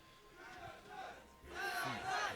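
An esports arena crowd at the start of a League of Legends match rises into loud cheering and shouting, with the roar swelling partway through.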